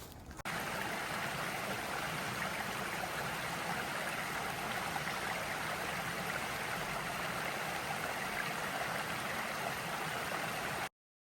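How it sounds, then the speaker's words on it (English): The falls at the Pigeon River Bridge give a steady, broadband rush of water that holds constant from start to finish, close and loud with no other sounds. "The falls at the Pigeon River Bridge."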